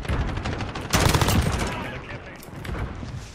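A video game sentry turret fires rapid, dense bursts of gunfire, loud and close, with a sharper surge of shots partway through and a continuous rattling barrage throughout.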